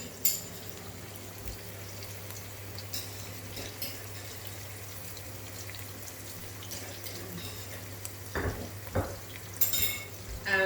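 Onion and garlic frying in a pan while vegan pasta with broccoli is cooked, with a soft steady sizzle and a few scraping stirs of the pan, growing busier near the end.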